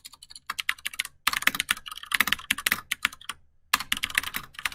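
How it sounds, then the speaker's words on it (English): Fast, uneven clatter of typing on a computer keyboard at a desk, close and crisp, in flurries of keystrokes broken by two short pauses, with no talking. "Man, my typing's on point."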